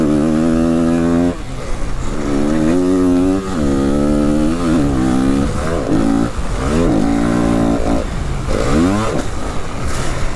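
A 2022 Yamaha WR250F dirt bike engine revs hard and loud, climbing in pitch and dropping back repeatedly as it shifts up through the gears, with no talking over it.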